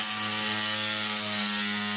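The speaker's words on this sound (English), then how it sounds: "drill a hole through to the other side" Power drill boring a hole through a reinforced bedroom wall during a makeover, a steady loud mechanical whine with a constant tonal hum running unbroken throughout, no voices.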